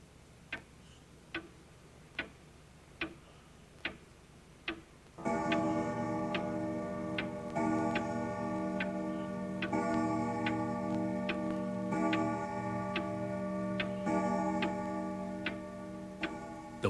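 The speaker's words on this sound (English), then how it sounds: "the sound of the old grandfather clock striking the hour" An old grandfather clock ticks in a slow, even rhythm, about six crisp ticks, then launches into a loud, sustained ringing chime as it strikes the hour, the tones lingering and overlapping.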